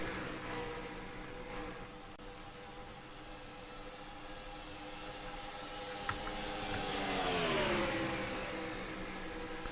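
A stock-style racing car in ISCR sim racing testing at Las Vegas, with a steady mid-pitched engine hum that climbs into a louder revving sweep near the end, heard alone without voices.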